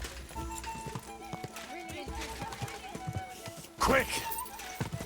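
Rhythmic hoofbeats of a galloping horse in the video game Kingdom Come: Deliverance II, with game music and a voice talking over them, then a louder burst near the end.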